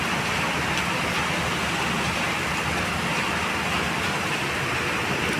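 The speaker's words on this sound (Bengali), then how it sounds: "টিনের চালে পানি পড়তেছে আর ঝমঝম ঝমঝম শব্দ হইতেছে।" Heavy rain drums on a tin roof in a dense, continuous roar, loud and unbroken throughout, with no voices.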